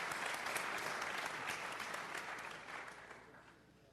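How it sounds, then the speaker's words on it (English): Applause from a large audience, dense clapping heard close and alone, staying strong for a couple of seconds before slowly fading toward the end. "Big round of applause for Mr. Jeff King."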